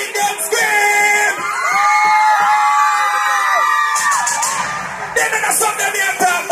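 A concert crowd at a live show cheers, yells and screams loudly and continuously, with sustained high-pitched shrieks and whoops swelling before the performance.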